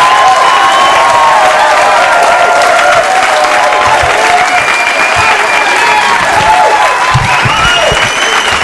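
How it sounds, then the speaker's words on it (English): A studio audience at a cable comedy show applauds and cheers as comedian Jonathan Katz is brought on, a loud, dense wall of clapping with whoops that holds steady throughout. "Please, a nice round of applause,"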